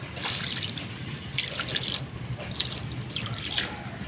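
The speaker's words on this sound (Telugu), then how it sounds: "ఇలా వాటర్ వేసేస్తున్నానండి" Newly planted garden plants are watered, giving a steady close trickle with a few brighter splashes and drips as the stream hits the soil.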